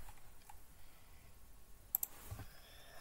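A faint computer mouse gives two quick clicks close together in an otherwise quiet room, followed by a soft rustle.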